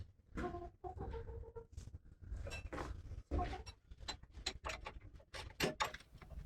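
Chickens cluck in bursts of short, close calls beside a Massey Ferguson TO-35 tractor in a workshop, with clattering and shuffling in between.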